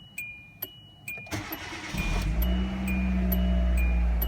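Regular ticking chimes sound, then a newly installed starter cranks and a Hyundai Accent or Kia Rio engine catches, the car raised in the air, settling into a steady, close rumbling idle.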